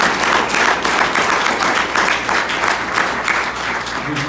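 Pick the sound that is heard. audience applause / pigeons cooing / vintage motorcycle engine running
audience applause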